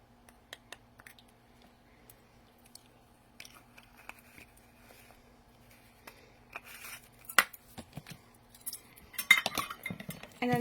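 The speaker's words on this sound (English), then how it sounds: "you're mixing all of your dry ingredients together" Dry play dough ingredients (flour, cream of tartar) being stirred in a bowl, with light scraping and clinking of a utensil against the bowl, sparse at first and becoming busier and louder toward the end.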